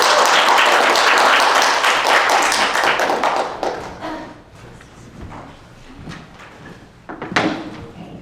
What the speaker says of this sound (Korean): 큰 박수로 듣겠습니다.